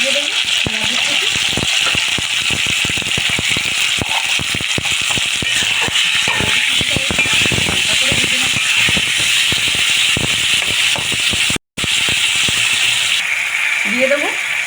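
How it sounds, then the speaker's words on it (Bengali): Tomatoes sizzle and crackle in a hot pan of oil while cooking khichuri, a steady loud frying hiss with scattered pops. Someone talks over the sizzle throughout. "টমেটোটা আমি ভালো করে ভেজে নেব।"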